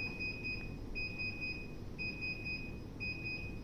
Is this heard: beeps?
yes